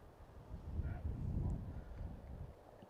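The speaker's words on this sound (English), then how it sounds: "A beautiful day here in Marietta, although it is very windy." Strong wind gusts buffet the microphone at an outdoor soccer game in Marietta, making a low, uneven rumbling roar that swells and fades across the whole stretch.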